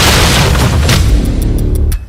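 A heavy cinematic boom from a Bhojpuri action movie trailer, a loud deep blast with a rumbling tail that rolls on for about two seconds, then cuts off abruptly.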